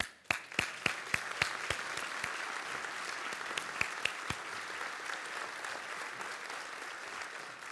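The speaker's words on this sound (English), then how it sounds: "I want to give another big round of applause to all our award winners." Award winners receive audience applause at a civic state-of-the-city event, opening with several sharp, distinct claps that merge into a steady, moderate wash of clapping.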